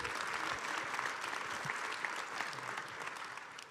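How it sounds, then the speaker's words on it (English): Audience at a DrupalCon Atlanta 2025 keynote applauding steadily, a dense wash of many hands clapping at even loudness with faint crowd murmur throughout. "can we give him applause?"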